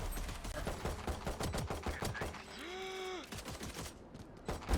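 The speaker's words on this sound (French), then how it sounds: "Ah ça y est, il tire." Rapid gunfire in the tactical shooter Valorant, a fast stream of sharp shots running through most of the clip, with a rising-and-falling ability tone in the middle and a voice briefly audible.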